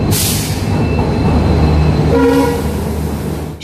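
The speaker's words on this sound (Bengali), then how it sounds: "আমাদের ট্রেন কাঞ্চনকন্যা এক্সপ্রেস সোয়া সাতটায় জংশনে ঢুকল" A train horn sounds briefly over the steady, loud rumble of the Kanchankanya Express rolling slowly along the tracks into a junction.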